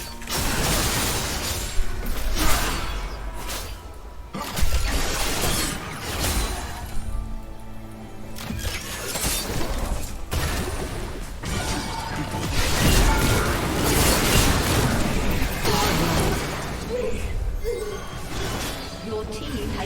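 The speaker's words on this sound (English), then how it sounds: "Your team has destroyed the turret." A turret being destroyed in the League of Legends video game, with crunching mechanical collapse, creaks, ratcheting and shattering crashes layered over game effects and a talking voice, loud and continuous.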